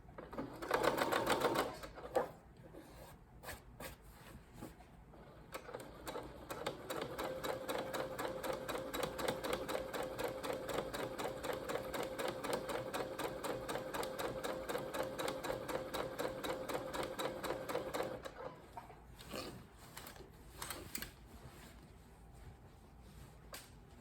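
Sewing machine running a straight seam at a 3.5 stitch length for a paper bag skirt, a steady rapid mechanical whir of stitching that lasts about twelve seconds, with a few handling clicks before and after.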